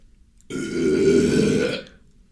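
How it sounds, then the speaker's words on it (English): A long, loud burp from a person, lasting a little over a second, clear and close with no talk over it. "I need a burp."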